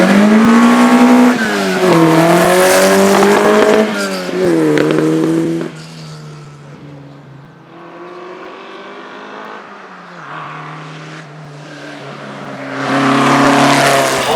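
A Lotus 51A race car, a hybrid with earlier bodywork on a later chassis, screams up the Shelsley Walsh hillclimb, its engine note rising through the gears, fading into the distance, then swelling loud again.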